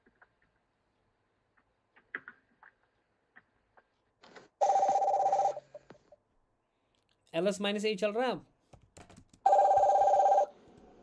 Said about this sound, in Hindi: फोन भी आ रहा है किसी का